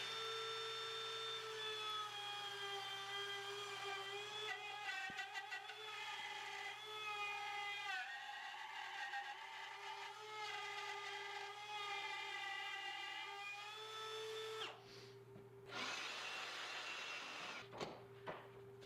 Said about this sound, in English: clamp my template down and route this thing away